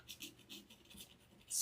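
Scissors scratching an aluminum triangle board to roughen it, giving several quick, faint rasping strokes in a steady rhythm, close up, ending with a louder scrape.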